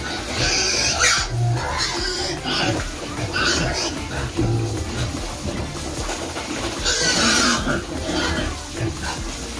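Two-month-old fattened pigs, a group of about ten, grunting and oinking in a pen, with continuous overlapping snorts and grunts at close range amid general farmyard bustle.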